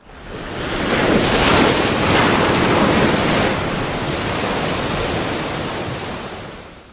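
Ocean surf rolls in a steady, loud wash of broadband noise, swelling slightly in the first seconds and then holding before easing off, as a sea comes into view beyond the Sahyadri mountain peaks; no voices.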